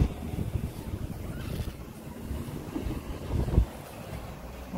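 Wind rumbles and buffets the microphone in uneven gusts, with one stronger gust near the end; no one speaks.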